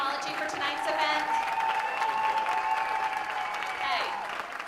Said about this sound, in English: can we give a round of applause for our Next Trio team